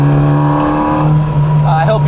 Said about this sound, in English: I love that exhaust system.